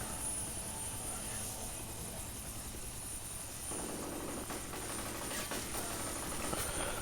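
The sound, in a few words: helicopter flying, from the video game F.E.A.R. Perseus Mandate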